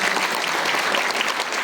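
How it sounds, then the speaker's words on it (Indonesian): Audience applause at a business presentation, a steady dense wash of clapping hands filling the room, loud and continuous throughout with no voices over it. "Tepuk tangan dong."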